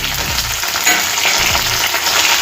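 Garam masala, cloves, cinnamon and chopped tomato pieces hit a hot pan of oil, giving a steady loud sizzle and frying hiss with a couple of brief stirring scrapes.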